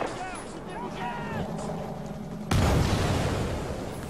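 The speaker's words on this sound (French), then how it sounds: "on va les faire exploser" Explosion in the Battlefield 4 single-player campaign: one sudden loud blast about midway that jumps above the steady rumble of combat and keeps a broad roaring wash to the end, with voices talking over the earlier part.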